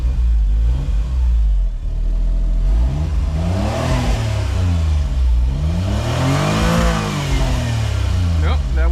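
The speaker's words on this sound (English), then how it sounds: "Run and warm up a little bit before I try to rev it." A Suzuki Cara Autozam AZ-1 engine idles, then climbs through several rising and falling revs in a loud, close buzz. A voice speaks briefly underneath.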